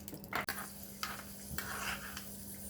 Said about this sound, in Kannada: ಗೋಡಂಬಿನ ಹಾಕ್ಕೊಂಡು ಒಂದು ಸ್ವಲ್ಪ ಇದನ್ನ ತುಪ್ಪದಲ್ಲೇ ಫ್ರೈ ಮಾಡ್ಕೊಳ್ಳೋಣ